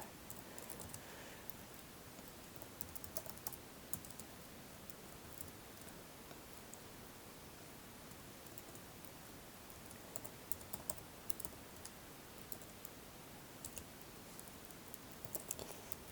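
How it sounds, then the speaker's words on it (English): Rapid clicking of a computer keyboard, faint and close, with steady keystrokes and a few louder taps over a soft background hiss, no speech. "I'm just going to type out.mp4 just for a simple thing."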